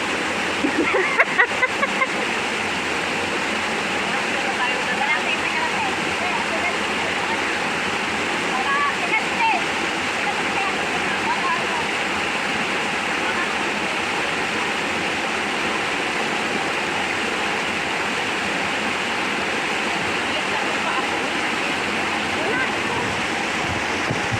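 Steady, broad rushing of a waterfall on a stream fills the scene throughout, loud and constant, with a few faint voices underneath.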